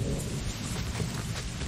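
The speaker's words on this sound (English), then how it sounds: "Wow, that storm just blew in." Thunderstorm with heavy rain in the video game Assassin's Creed IV Black Flag at sea: a dense, continuous roar of rain with rumbling thunder rolling underneath, loud and unbroken.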